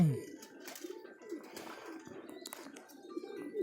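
Pigeons in a breeding loft give soft, repeated low coos close by, with faint chirps and someone speaking quietly in between.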